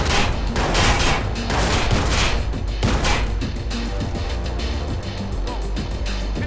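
Rapid gunfire from the video game Watch Dogs rattles in dense, loud bursts of overlapping shots with booming impacts, continuous throughout and close.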